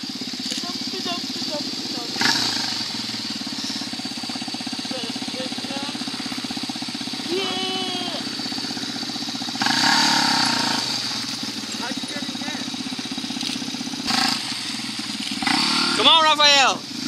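A motorcycle engine drones steadily nearby with occasional surges in revs, while voices talk and call out over it throughout.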